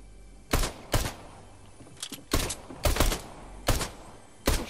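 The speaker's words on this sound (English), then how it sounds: "He's shooting." Fortnite video game gunfire from a common pistol, several sharp shots in irregular bursts, fairly loud and close, with no talk over them.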